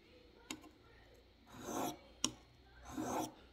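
An Emerson CQC-7 knife is drawn across an Arkansas sharpening stone in two slow, quiet rasping strokes, with sharp little clicks between them, heard close up and alone.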